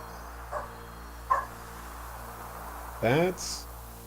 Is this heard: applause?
no